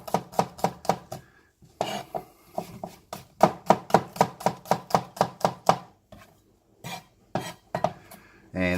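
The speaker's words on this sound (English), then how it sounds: "You want to slice it really finely." A knife slices a shallot finely on a chopping board, rapid crisp taps in quick regular runs broken by brief pauses, close and clear with no talking.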